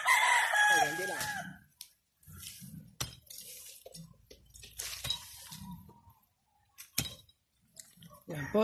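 A rooster in a backyard farm flock crows loudly near the start while hens cluck intermittently, alongside people talking and occasional clattering sounds.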